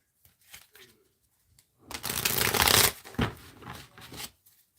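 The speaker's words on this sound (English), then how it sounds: "Let's see if I can get a bit more information if I use these oracle cards" A deck of oracle cards is shuffled by hand, a dense riffling burst of paper flicks up close, preceded and followed by brief softer card handling and a faint murmur.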